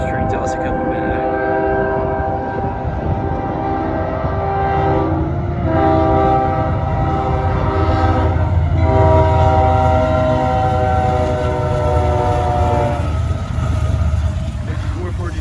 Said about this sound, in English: the test train is like right here, so I'll keep rolling